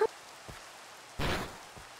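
Minecraft rain in a video game, a soft steady hiss of falling drops with a brief louder wash midway, quiet and without talk.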